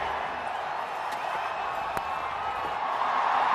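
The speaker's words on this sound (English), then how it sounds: "The crowd are cheering" Stadium crowd at an India versus Ireland T20 cricket match, a constant distant roar of cheering and murmur with a few faint whistles, rising slightly toward the end.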